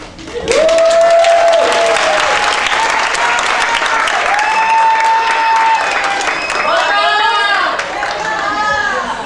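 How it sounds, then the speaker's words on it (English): An audience at the 2008 Quijote Awards ceremony breaks into loud, continuous applause for two Spanish ambassadors in Japan. Scattered cheers and whistles cut through the steady clapping. "so please let's give a big applause for Mrs. Lorico and Mrs. Blanca, our Spanish ambassadors in Japan."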